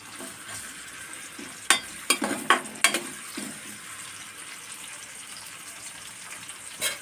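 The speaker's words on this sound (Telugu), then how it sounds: "నూనె వేసి కాగిన తర్వాత తరిగి పెట్టుకున్న ఉల్లిపాయలు వేయాలి." Chopped onions fry in hot oil for a Telugu-style bean curry, giving a steady close sizzle with a handful of sharp utensil clatters bunched around the second and third seconds.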